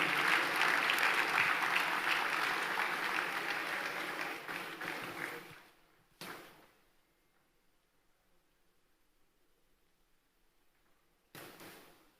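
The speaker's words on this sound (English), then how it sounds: "Please keep the applause going till she gets here." An audience at a Democracy Day dialogue applauds steadily for several seconds, then fades out, leaving two brief bursts of noise in near silence.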